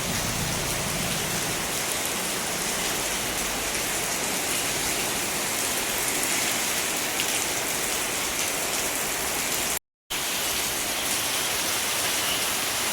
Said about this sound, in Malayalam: ഇപ്പോൾ നല്ല മഴയാണ്.